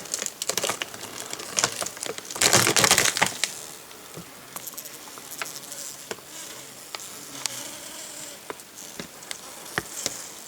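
Honeybees inside a hive, not yet climbed to the top of the frames, give a faint, steady low hum mixed with soft crackling and rustling, with a brief louder burst of crinkly activity early on and scattered clicks, close and alone.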